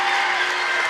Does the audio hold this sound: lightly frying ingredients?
no